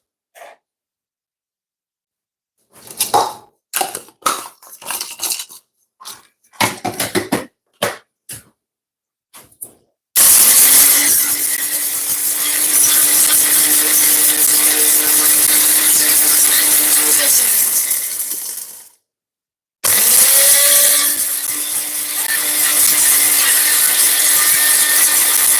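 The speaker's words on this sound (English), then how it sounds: "Just grind everything to powder." An electric spice grinder pulverizes a cinnamon stick and other whole spices to powder: a loud, high whirring burst runs about ten seconds, stops briefly, then starts again, after a stretch of scattered short knocks and rattles.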